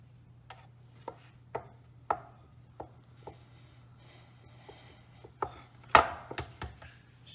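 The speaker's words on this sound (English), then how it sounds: "I'm really going to flatten it with this rolling pin" Rolling pin pressing and flattening spinach flatbread dough, giving a series of soft irregular knocks and thumps about every half second over a low steady hum, with a louder cluster of thumps near the end.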